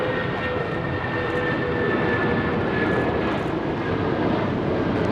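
A Japan Airlines jet airliner taxis at LAX toward the north side for takeoff, its engines producing a steady, loud, broadband roar with a faint whine that holds evenly throughout, with no talking.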